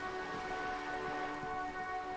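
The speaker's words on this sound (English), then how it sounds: "Fucking raining!" Rain in the video game Disco Elysium, a steady soft hiss of falling rain with faint droplet patter under a low sustained tonal hum, quiet and continuous.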